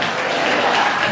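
A worship congregation at a Friday fasting sermon claps for the Lord, steady dense applause throughout, close and loud with no pauses.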